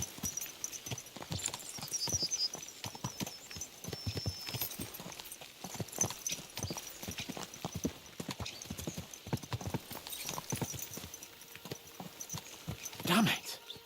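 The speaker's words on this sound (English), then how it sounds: "Let's really spur these horses on, eh?" Horses gallop in the medieval role-playing game Kingdom Come: Deliverance II, with a fast, steady clip-clop of hooves running throughout at moderate volume, some faint clinks above it and a brief snort or whinny near the end.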